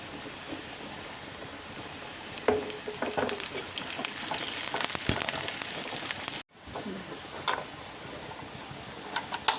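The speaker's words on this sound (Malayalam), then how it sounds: "നമ്മുടെ ഉള്ളി കറുവപ്പിൽ നന്നായി മൂത്തിട്ടുണ്ട്" Onion fries with cinnamon in a pan for a raw cashew masala curry, a continuous crackling sizzle with scattered stirring scrapes and clicks, close and fairly loud, briefly cut by a short silent gap near the end.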